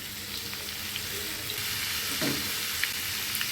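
Mustard oil heats in a pan for a chilli pickle, giving a continuous close sizzle with faint crackles and one brief denser burst midway.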